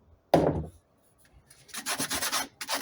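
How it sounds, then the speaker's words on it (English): Rough scraping strokes of sandpaper or a rasp smoothing the rough edges of a wooden garden planter: one short burst, a pause, then a quick run of repeated rubbing strokes, close and clear. "just going to rub out these rough edges"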